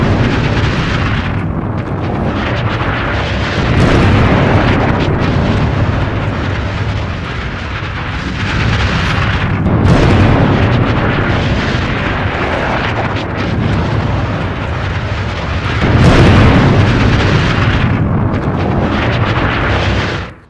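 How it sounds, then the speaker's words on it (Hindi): Explosions from Israeli strikes in Lebanon rumble as loud, dense booms and roaring blasts that surge in several waves over a continuous heavy background, with no voices. "इजराइल ने 100 धमाके किए हैं लेबनान में"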